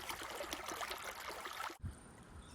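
Creek water runs in a busy, close trickle and babble, then cuts abruptly to a quieter, duller stream after a brief thump.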